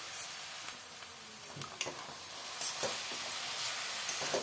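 Cabbage and green peas sizzle steadily in a pan, seasoned with salt and a little sugar, with a continuous close hiss broken by a few sharper crackles and scrapes of stirring, and no voices.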